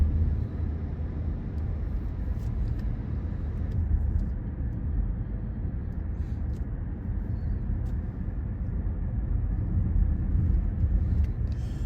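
A car drives along a road on Hawaii's Big Island, a steady low engine and tyre rumble holding even throughout with no voices.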